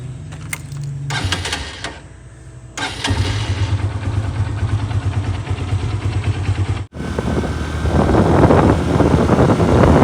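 A motorcycle engine revs and runs steadily, with a low droning hum and rushing noise, briefly cutting out before picking up louder again.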